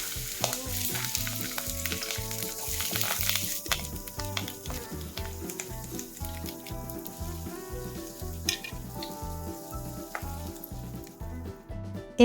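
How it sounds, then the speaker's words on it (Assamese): Eggplant pieces frying in hot mustard oil in a kadai, a steady close sizzle with dense crackling that holds throughout and eases slightly toward the end. "কাটি লোৱা বেঙেনাখিনি তেলত দি ল'ম।"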